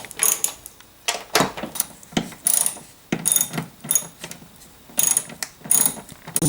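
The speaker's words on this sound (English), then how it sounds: "Now you're going to want to tighten the 3 bolts." Ratchet clicking in quick repeated bursts while the three bolts of a Mercedes R129 SL door check strap are tightened, each run of sharp pawl ticks separated by brief pauses, close and fairly loud with no talking.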